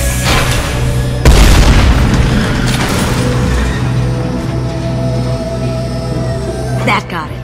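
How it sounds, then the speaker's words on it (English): Fuel tanks blow through a wall in Mass Effect 2, a sudden heavy boom that swells out of a loud, dense rumble of game noise and music and fades into a long roar. "These are full of fuel. It's easily enough to blast through the wall."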